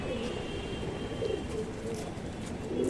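Pigeons kept in a home loft coo softly and repeatedly from close range over a low background hum, with a faint voice in the room.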